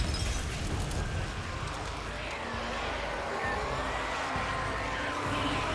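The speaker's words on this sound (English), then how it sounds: "napalm molotov" A napalm molotov bursts in the video game Days Gone, giving a loud, sustained roaring blast of fire and debris that fills the whole span with dense rumbling noise.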